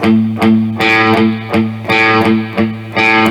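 Overdriven electric guitar plays a chugging palm-muted 16th-note rhythm, loud and close, with repeated short choppy strums and brief open accents.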